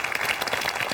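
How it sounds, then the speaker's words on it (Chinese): A studio audience claps in a short, dense burst of applause at a televised debate show, steady and fairly close throughout. "来，掌声。"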